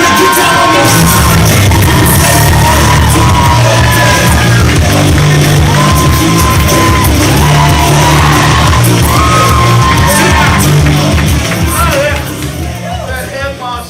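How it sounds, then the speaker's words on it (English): Loud improv show crowd cheering, yelling and whooping nonstop, a dense wall of voices with shouts rising over the din, easing slightly at the end. "Make some noise for OKC Improv Crowd now!"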